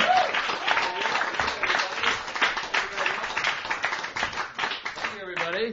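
A comedy audience claps for a stand-up comedian, lively uneven applause with individual claps standing out, while voices talk and call out over it near the end.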